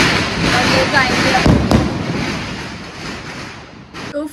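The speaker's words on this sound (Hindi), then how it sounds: "हम बस थोड़े से ऐसे चुटपुट वाले पटाखे जला रहे हैं" Small Diwali firecrackers are set off at the foot of a residential building, making a dense, continuous crackle and hiss with gusty, wind-like noise, fairly loud and close, with voices faintly mixed in.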